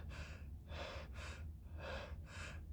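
Labored, rasping breaths from someone with long COVID shortness of breath, five heavy gasping inhales and exhales in an uneven rhythm, close and alone with no talking.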